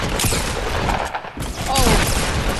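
Rapid video-game gunfire from a build battle crackles in dense bursts throughout, loud and continuous, with a brief lull near the middle before it picks up again.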